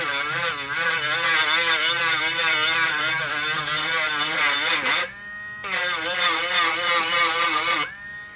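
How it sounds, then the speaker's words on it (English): An electric sander runs on its high setting against a cup, giving a loud, close, wavering motor whine that briefly drops off and restarts before cutting out near the end. "I just turn it on the high setting, and then I let it do its work. And it's gonna sand down those bumpy parts really well."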